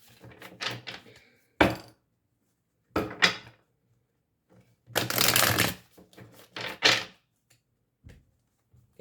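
A Rider-Waite tarot deck being shuffled in several separate riffling bursts with quiet pauses between them, close and crisp, with no talking.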